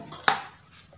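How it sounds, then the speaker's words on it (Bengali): A single sharp knife chop through a block of nolen gur (date-palm jaggery), cutting it into small pieces: one crisp, close impact at about a quarter second, then a faint tail and quiet. "গুড়টাকে আমি ছোটো ছোটো করে কেটে নিচ্ছি।"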